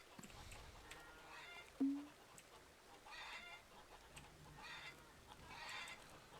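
Soft, scattered clucking from a few chickens in the farming video game Farmer's Dynasty, faint and slightly distant, with one short louder squawk partway through.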